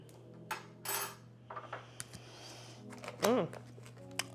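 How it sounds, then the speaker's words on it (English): A spoon stirs a drink mixed with Baja Blast, giving a few light clinks and scrapes against the glass, quiet and close, with brief talk in between. "I'm just gonna stir it just a tinge to incorporate the Baja Blast"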